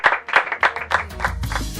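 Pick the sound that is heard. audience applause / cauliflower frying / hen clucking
audience applause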